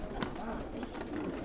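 A Punjabi breed pigeon cooing softly, a brief rolling coo close by and faint, with someone talking over it.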